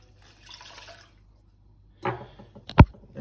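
Running water briefly rinses metal filings off a knife blade after sharpening, a short splashing gush followed by a sharp clink against the sink, close and alone.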